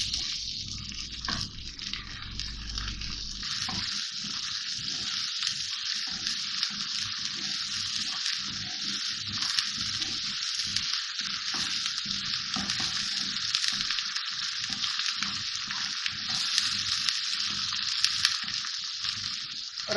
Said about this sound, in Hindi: और ये लहसुन अदरक का पेस्ट, थोड़ा सा भूनेंगे इसको